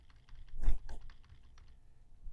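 Someone types an answer on a computer keyboard: a short run of close, light key clicks with one heavier clatter in the middle, set against a quiet room.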